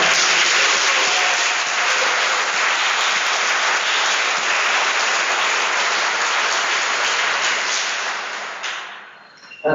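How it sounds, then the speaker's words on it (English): A large audience at a law school pre-law program graduation ceremony claps steadily in a dense, sustained round of applause that fades out near the end. "Give them a big round of applause."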